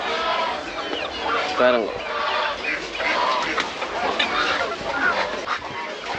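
Hens cluck busily at a small backyard poultry farm in Madagascar, the close, lively calls overlapping with someone speaking briefly.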